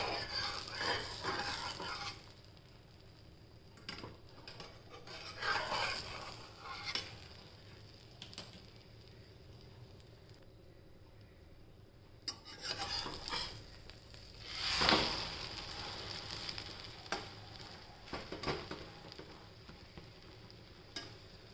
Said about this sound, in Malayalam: ഇതൊന്നും നമുക്ക് ലോ ഫ്ലെയിമിലിട്ട് വേണം വേവിച്ചെടുക്കാൻ. കാരണം ബ്രോക്കോളിയുടെ അതൊന്ന് വെന്ത് കിട്ടണ്ടേ.